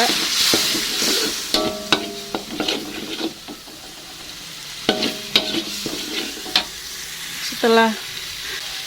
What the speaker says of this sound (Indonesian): saya tambahkan air dan tuang di sini dulu ya